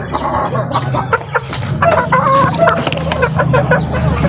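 Asil gold chickens cluck and call steadily while being fed, a busy, close flock chatter with repeated short fowl vocalizations and a few brighter rooster-like calls over a constant background hum.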